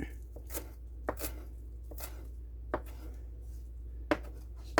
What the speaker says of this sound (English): So I'm just going to now coarsely, in a sense of it, chop up this fresh parsley